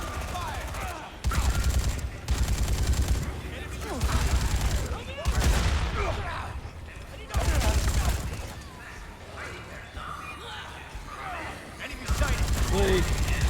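Rapid machine-gun fire in the Dead Rising 3 video game, loud repeated bursts separated by short gaps, with a person talking over the quieter stretches between volleys.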